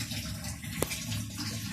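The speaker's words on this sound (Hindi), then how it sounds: "ये एक और जग मैंने डाला है और एक और डालूंगी।" Water from a jug is poured into a cooking pot while making Lahori nihari, a brief soft splashing stream heard close but faint, with no talk.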